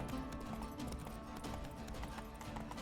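Roach, the horse in The Witcher game, clip-clops in a steady, brisk hoof rhythm under a dense layer of game background sound, with no pause through the short stretch.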